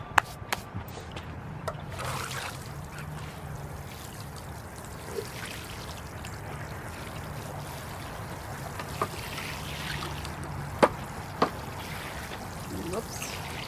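Water pouring and trickling from a watering can onto newly planted lettuce and bunching onions in a small raised garden bed, a steady soft splashing with a few sharp clicks, heard alone at close range.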